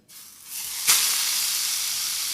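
Steak dropped into a hot cast iron pan on a camp stove, a sudden loud hiss that settles into a steady, close sizzle.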